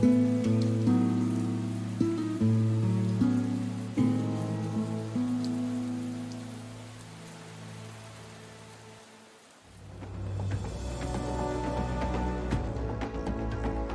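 Steady rain with wind in the Australian Alps of Tasmania, a continuous broadband wash of drops on surfaces, loud and close, dipping briefly before swelling again, with no voices.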